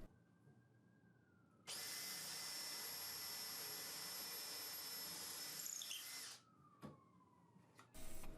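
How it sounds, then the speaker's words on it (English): A power drill bores dowel holes into walnut for a modern entryway bench, giving a loud, steady high whine for about four and a half seconds that winds down, then a brief burst near the end. "I use a bit of tape around a drill bit so I know just how far down I want to drill"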